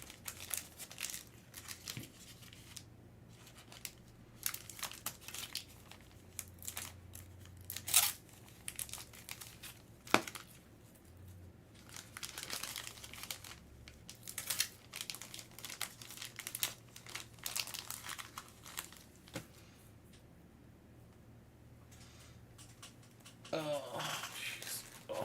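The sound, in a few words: plastic bag crinkling while being handled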